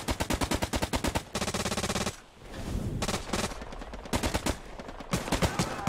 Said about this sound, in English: MG is opening up to our right